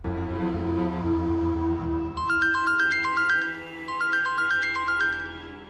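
A melodic phone ringtone plays while a call is placed, a repeating electronic tune in two loud phrases over a low held background tone, with no talk.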